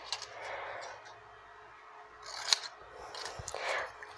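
Scissors snip and trim through a semi-transparent plastic shrink film negative, with several separate close cuts and light paper-like rustling between them, no talking.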